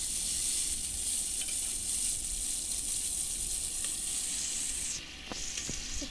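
Chilli, garlic and onion frying in a pan, a strong, even sizzle stirred close by with a few light utensil taps. The sizzle dips briefly near the end, and no voices are heard.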